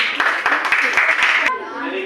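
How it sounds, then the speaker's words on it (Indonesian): A junior high school class in Kupang, Indonesia, claps together in a quick burst of applause for about a second and a half, then it stops abruptly and a voice speaks. "tepuk tangan untuk kelompok baru dulu."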